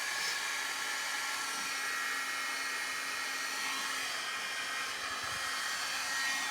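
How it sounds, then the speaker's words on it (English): A heat gun used for embossing on a scrapbook project blows hot air in one continuous, even whir, steady and fairly close with no pauses or talking. "Let's get my heat gun nice and warm."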